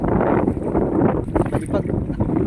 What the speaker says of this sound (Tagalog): Lakas lang ang hangin.